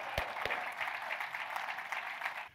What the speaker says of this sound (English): Give me a round of applause as he comes up.